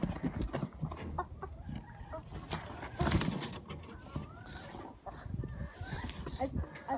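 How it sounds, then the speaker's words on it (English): Chickens cluck and squawk close by amid shuffling and movement near a chicken coop, with people talking over them throughout. "do you think that sound that the chickens make is kind of funny?"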